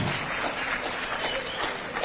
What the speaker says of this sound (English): Sustained applause.